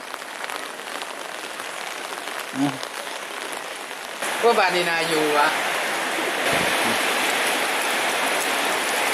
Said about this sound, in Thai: ตอนนี้ฝนตกลมแรงอย่างหนัก